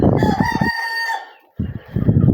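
A rooster crows loudly nearby, one long harmonic call that rises and holds, with clucking and farmyard noise before and after it.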